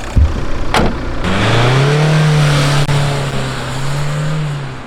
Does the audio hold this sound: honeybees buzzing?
no